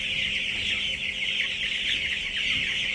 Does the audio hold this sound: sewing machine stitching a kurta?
no